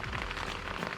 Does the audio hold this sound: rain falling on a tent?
yes